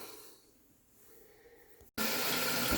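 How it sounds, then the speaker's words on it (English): A quiet pause, then water abruptly rushes into a dual flush toilet tank with a loud, steady hiss, filling it up close. "Turn the water on."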